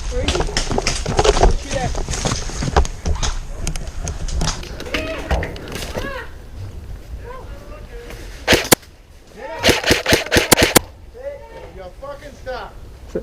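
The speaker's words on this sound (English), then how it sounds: "I decide to shoot at them" An airsoft Thompson submachine gun fires in close-quarters play: a short volley of sharp, rapid cracks, then a longer rattling burst of shots. Someone talks steadily over much of it, and footsteps and outdoor rustling run underneath.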